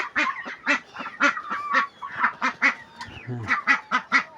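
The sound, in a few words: ducks on a farm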